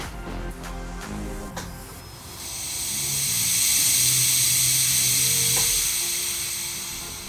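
A steady rising hiss of fuel spraying from a leaking fitting while the fuel system of an FC RX-7 Turbo II is primed, swelling to a loud, continuous rush for several seconds after a few faint clicks.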